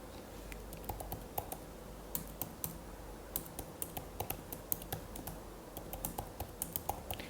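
Fingers type on a computer keyboard, entering account details, as a quiet, close run of irregular key clicks with small pauses between bursts; nobody speaks.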